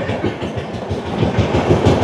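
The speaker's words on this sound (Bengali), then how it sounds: "আমাদের সাথে এবার ক্রসিং হবে পুরী থেকে কামাখ্যাগামী এক্সপ্রেসের সাথে।" Puri–Kamakhya Express rushing past on the crossing track, a steady close roar of wheels with rhythmic clickety-clack over rail joints, heard from inside a passing Vistadome coach.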